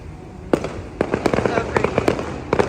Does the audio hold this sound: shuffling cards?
no